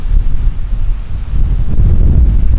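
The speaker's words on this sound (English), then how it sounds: "That's that wind. It's blowing like 20 to 30 miles per hour right now." Strong wind blowing at about 20 to 30 mph outdoors, a loud, steady low roar with gusty buffeting against the microphone throughout, no voices.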